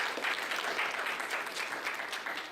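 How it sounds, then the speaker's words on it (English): Applause at a youth empowerment summit, a steady, even patter of many hands clapping that stays moderately loud for the whole stretch, with no voices over it. "Let's please give another round of applause for Felman Reed."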